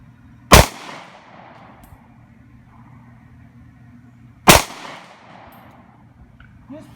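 Two sharp shots from a Springfield Armory XDS .45 pistol fired at a target 70 yards away, about four seconds apart, each a loud crack with a short outdoor decay and quiet between.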